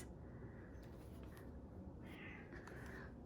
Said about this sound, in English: My cat is making noises.